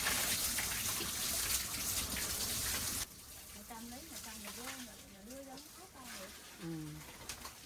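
Commercial pig feed or rice bran is mixed with water in rural Vietnam, heard as a steady rushing, sloshing water sound for about three seconds. Soft dove coos follow over quieter background noise.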